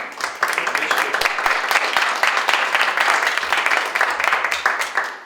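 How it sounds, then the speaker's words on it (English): Colleagues at a municipal heritage committee meeting give a round of applause for a departing co-op student, a close, lively patter of many hands clapping that swells and continues steadily before tapering off. "a round of applause for Madeline"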